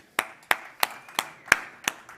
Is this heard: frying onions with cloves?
no